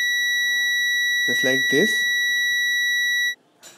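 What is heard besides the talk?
UNI-T digital multimeter continuity buzzer beeping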